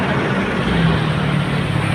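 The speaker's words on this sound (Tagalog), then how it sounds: "Napakuhanan ko yung mga nagdadaang buses." Buses and heavy traffic passing on the MacArthur Highway beside a campus, a continuous loud low rumble of engines and road noise without speech.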